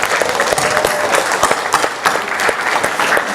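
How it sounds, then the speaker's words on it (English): Loud applause from an audience at an opening session, many hands clapping close by with distinct sharp individual claps standing out in a continuous burst. "I want you to pay special attention and give a round of applause to Joellen Hickenbottom"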